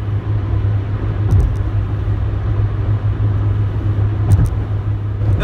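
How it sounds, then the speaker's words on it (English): Nissan S-Cargo with a three-speed automatic cruising near the top of its rev range, a steady loud engine drone blended with broadband wind rush and road roar, with a couple of faint clicks above the continuous hum. "You hear a lot of engine, you hear a lot of wind noise,"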